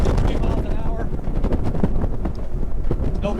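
Adrenaline 47 Reaper powerboat running at 73 mph, a loud, dense roar of engines, hull and wind buffeting that stays constant throughout with no pauses, with a voice talking over it.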